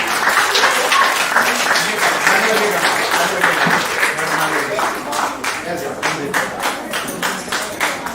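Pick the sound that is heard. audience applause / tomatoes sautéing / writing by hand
audience applause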